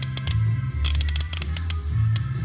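Ratcheting wrench clicks in quick bursts while loosening bolts on a 2016 BMW S1000RR motorcycle footrest, close and fairly loud over a low mechanical hum, with no talking.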